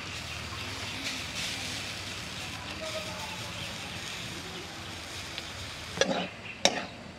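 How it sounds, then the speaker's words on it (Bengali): Potato filling for dhaba-style aloo paratha sautéed with fresh coriander in a pan, giving a soft, continuous sizzle with stirring scrapes, closed by two sharp utensil clacks. "এখানে কষতে কষতেই আমি ধনেপাতাগুলো দিয়ে দিচ্ছি।"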